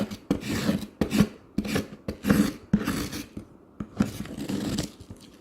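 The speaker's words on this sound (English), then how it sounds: "grab a spoon or a fork and scrape the surface of the milk" A spoon rasps across the surface of partly melted frozen milk, shaving flakes for bingsu, in repeated close scraping strokes, about nine in quick succession with short pauses, and no talking.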